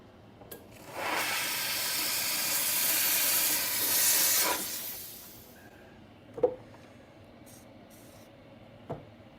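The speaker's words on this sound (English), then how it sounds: "Let me go steam this real quick, see if I can get it to clean up some." A steam cleaner blasts a steady, loud hiss for about four seconds while cleaning a broken dental splint in a lab, followed by a couple of small knocks.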